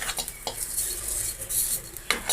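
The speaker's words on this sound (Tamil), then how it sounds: "நான் புளி போட மறந்துட்டதுனால நான் லைட்டாக இதை வறுத்து எடுத்துக்கிறேன்" Tamarind lightly roasting in a pan makes a soft sizzle under brisk stirring, with a few sharp scrapes and clinks of a metal spoon against the pan and no voices.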